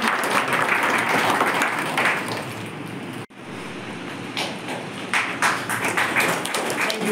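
An audience claps at a stage event honouring performers, a sustained burst of dense applause with a short break midway before the clapping picks up again.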